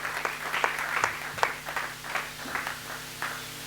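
A church congregation applauding in praise of the Lord during a deliverance service, a run of irregular claps close by with no speech over it.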